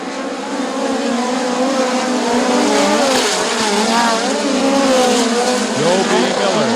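Midget race cars roar through a heat race on a dirt speedway, several engines layered in a loud continuous drone with rising and falling pitch as they pass, and commentary runs over the top.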